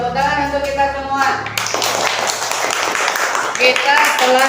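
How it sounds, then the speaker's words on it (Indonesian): Children in a classroom break into a quick round of hand clapping after a short voiced sound, the claps rapid and close, continuing for a few seconds with voices underneath. "tepuk tangan untuk kita semua"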